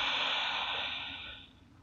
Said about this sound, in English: Breathing here for 3 breaths.